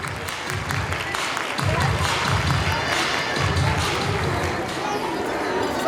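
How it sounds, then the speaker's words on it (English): Audience applause at a school parents' event, a steady wash of clapping and crowd noise filling the clip at moderate loudness, with low thumping rhythms beneath and some voices mixed in. "can I have a round of applause?"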